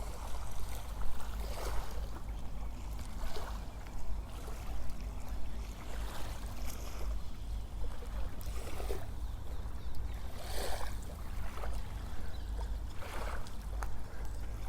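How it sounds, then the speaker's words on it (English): Gentle waves lap steadily on the Sea of Galilee, a freshwater lake, with soft rhythmic washes rising every couple of seconds over a constant low rumble of wind or water, with no talking. "Gentle waves."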